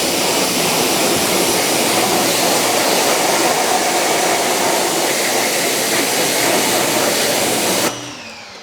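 A strong, steady spray of water rinses cleaner off a grimy Porsche wheel. The loud continuous hiss stops abruptly near the end.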